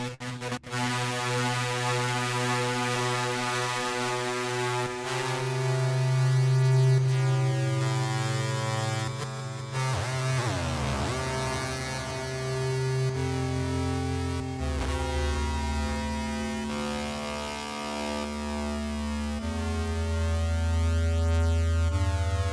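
A sustained drone from the Ocean Swift Synthesis Formula X synthesizer's drone bank, a dense stack of steady harmonic tones with a brief swooping bend near the middle, loud and continuous without speech.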